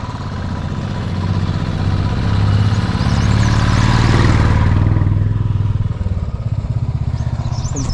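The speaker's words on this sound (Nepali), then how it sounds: "हुन त यसरी बाइकहरू पनि आउँछ आउनु।" A motorcycle passes on a quiet village road near Taudaha outside Kathmandu, its engine rising as it approaches close by, then fading away with a rough, chugging beat, no talk.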